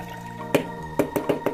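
Water draining from a cracked coconut, giving a few hollow, wet glugging drips, one then a quick cluster of three, close and clear over quiet background.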